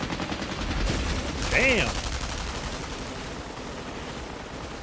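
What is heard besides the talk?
anime machines firing guns at Nomus, gunfire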